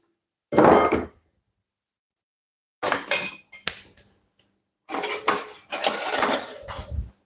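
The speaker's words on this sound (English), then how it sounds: "So I'll give it first a whisk just to bring everything together" A whisk clinks and scrapes against a bowl while stirring a powdered sugar mixture during fine-dining pastry prep, in three separate bursts of rapid metallic rattling with quiet gaps between them.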